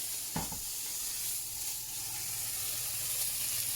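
Bread and butter pudding caramelising in a hot pan, giving a steady, fairly quiet sizzle with a brief clatter as it is turned over, then continuing to hiss evenly.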